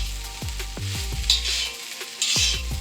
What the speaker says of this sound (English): I'm just going to fold it. Make sure all the rice is good and coated with that olive oil as well as that flavor.